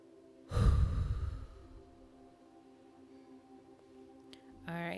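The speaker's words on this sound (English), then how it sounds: "Let's take a deep breath." A deep breath taken during a relaxation exercise at a health workshop: one long, close, breathy inhale or sigh lasting about a second, followed by a quiet room with a faint steady hum.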